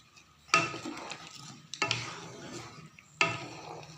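Tangra fish and potato curry is stirred in a pan over a gas stove, with three distinct bursts of scraping and clinking spaced about a second apart, a faint sizzle lingering between them.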